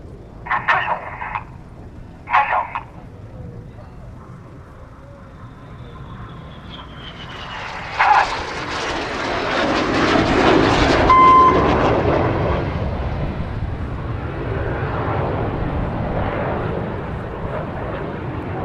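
A jet display team crosses at the Farnborough Airshow in opposing high-G turns. After a few short sharp bursts, the engine roar swells into a loud, broad, sustained rush that peaks midway and then slowly fades. No one speaks.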